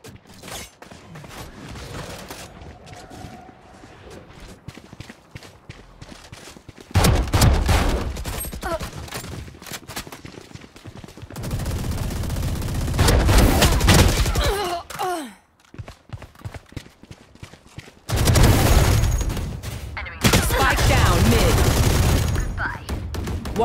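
Gunfire in the video game Valorant, heard as several loud, dense bursts of shots separated by quieter stretches, with brief game voice lines in between.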